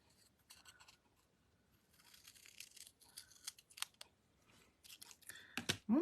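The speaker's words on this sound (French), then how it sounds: "Et je vais couper" A craft disc is cut with scissors in a quiet room, giving a series of close, crisp snips and crunchy cuts that grow louder and quicker toward the end, with no speech.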